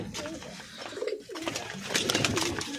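Pigeons coo softly in low rolling calls, several overlapping, with rustling and faint background noise around them.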